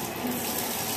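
Hot water runs from a tap into a bath, a loud, steady close-up gush with no voices.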